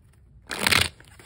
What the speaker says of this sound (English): let's get this shuffled here